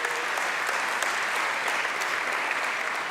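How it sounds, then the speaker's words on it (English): Steady, dense audience applause fills the whole stretch at a ceremony announcing South Africa's grade 12 matric results, the clapping even and unbroken with no voice above it. "May we all give the Peace Province of KwaZulu-Natal a big round of applause for this achievement."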